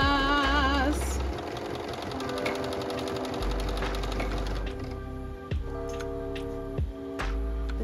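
A Bernina B570 QE sewing machine runs a zigzag stitch, its fast, even mechanical clatter close and steady through the stretch, with brief pauses and a few small clicks.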